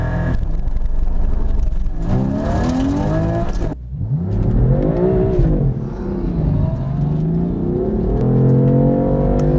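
A Porsche Cayman GT4 launches from a standing start in a four-car drag race on a cool, damp day. The engine roars loudly and climbs in pitch, drops briefly at a gear change, then pulls hard again.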